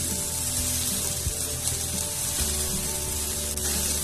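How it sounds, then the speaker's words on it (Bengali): Chopped medium tomato sizzling with browned onion in a pan while cooking chicken kosha, a steady close, loud frying hiss with no talk. "এখন এর মধ্যে অ্যাড করব একটা মিডিয়াম সাইজের টমেটো কুচি"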